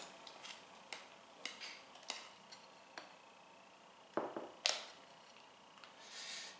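Spoon scraping and clinking against a dish while scooping topping onto a poke cake, a series of sharp, brief taps and scrapes spaced irregularly, close and fairly quiet with no talking.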